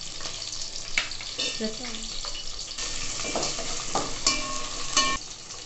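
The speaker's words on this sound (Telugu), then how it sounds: "నెక్స్ట్ గ్రీన్ చిల్లీని వేసుకొని కలుపుకొని పొటాటోని వేద్దాం" Whole spices, green chilli and potato are stirred in a hot pan, giving a continuous sizzle with scraping and clattering strokes from the spoon, close and fairly loud.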